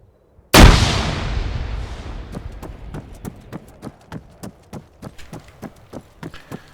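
A sudden loud grenade explosion in the video game ArmA 3 with sound mods booms and decays into rumble, followed by a steady series of sharp clicking taps, like debris or footsteps, continuing to the end.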